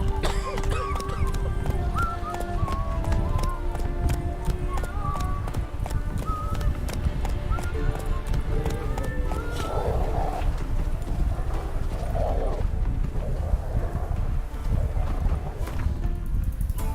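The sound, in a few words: horse Roach galloping hooves, from The Witcher video game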